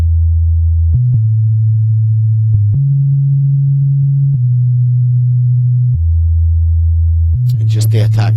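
A synthesized sub bass sounds as a pure, deep sustained tone, stepping between a few low pitches in long held notes, loud and steady, with brief talk near the end.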